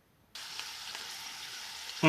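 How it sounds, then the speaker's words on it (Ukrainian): Pita-wrapped chebureki go into a pan and sizzle at once, a steady, close hiss of frying that starts abruptly and continues evenly, with a louder clatter at the very end. "Відправляємо їх смажитися на пательню."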